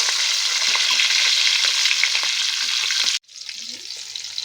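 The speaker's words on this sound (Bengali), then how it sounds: "এবার আমরা এই তেলের মধ্যেই আমরা কালো জিরে দিয়ে দিলাম ফোড়ন হিসাবে অল্প, কাঁচা লঙ্কা আর টমেটোটা দিয়ে দিলাম আমরা।" Black cumin seeds, green chilies and tomato sizzle loudly in hot oil, a dense, steady frying hiss heard close up that drops out suddenly and then comes back more quietly.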